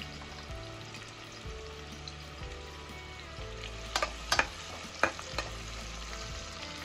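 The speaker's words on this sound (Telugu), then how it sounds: "ఆనియన్స్ కొద్దిగా రంగు వచ్చే వరకు ఫ్రై చేసుకుందాం" Sliced onions frying in a pan for Ankapur country chicken curry, a soft steady sizzle with stirring clatter and a few sharp scraping knocks near the end.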